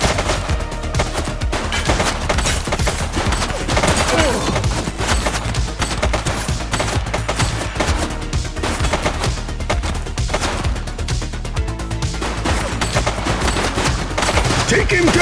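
Dense video-game gunfire in The Precinct, a police shootout with rapid volleys of shots cracking almost nonstop, loud and close, over a busy battle din for the whole stretch.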